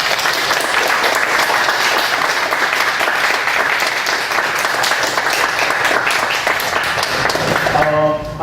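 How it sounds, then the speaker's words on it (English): Audience applause fills a presentation hall at the close of a UX and emerging technologies talk, a dense, steady wash of clapping that runs loud and continuous for several seconds before cutting off. "please give warm applause to Dirk and Kaz and Tushia as well."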